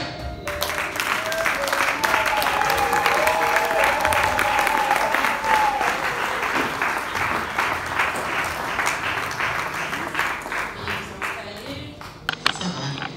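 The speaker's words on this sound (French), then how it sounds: "je vais donc inviter, sous vos applaudissements les plus chaleureuses, à prendre ces marques, Madame Nicole." Steady, sustained applause from a large crowd at a book launch, with a voice speaking over it at first, continuing for many seconds before thinning out at the end.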